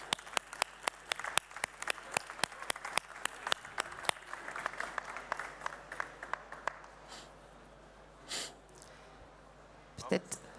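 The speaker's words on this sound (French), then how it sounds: "Voilà, vous pouvez l'applaudir." Applause at an agricultural trade show prize ceremony for a game tournament winner: close, sharp claps build into steady clapping, then thin out to scattered claps with murmuring crowd noise and a brief voice near the end.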